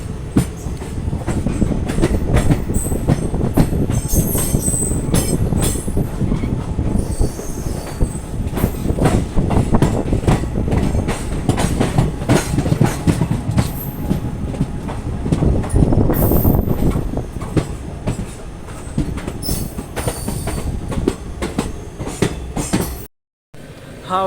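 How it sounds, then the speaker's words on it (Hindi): Howrah–Barmer Express, train number 12323, with LHB coaches passing through Sahibabad Junction: a loud, continuous rumble of passing rail cars with rhythmic wheel clatter and occasional wheel squeal, close by, with no talk, cutting off just before the end. "हावड़ा बारमेर एक्सप्रेस का क्रॉसिंग हो रहा है सहीबाबाद जंक्शन पे।"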